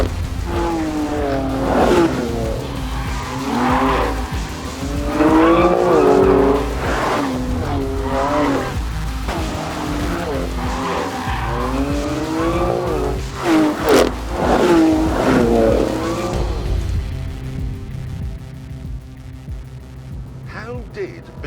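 A BMW sports car driven hard around a track, its engine revving and rising in pitch through repeated gear changes while the tires squeal and skid. The car is loud and close for most of the run before tailing off at the end.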